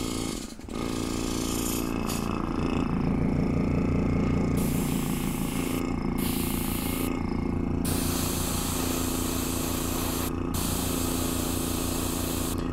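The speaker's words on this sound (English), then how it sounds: "So I'm going to spray it just a little bit more" Hissing spray of paint from a nozzle onto a diorama model mixed with a steady mechanical hum, bursts cutting in and out several times.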